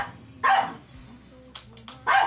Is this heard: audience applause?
no